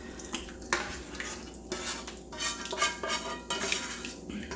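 Goulash noodles are scooped into a dish with a metal utensil, giving repeated close scraping, clinking and wet squelching strokes in a steady rhythm.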